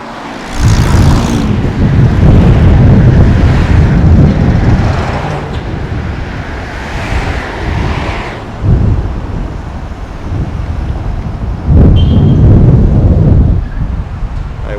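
A car drives through Chicago traffic heading toward the expressway, loud road rumble and buffeting wind noise that swell and ease in waves, with passing traffic around it and no talking.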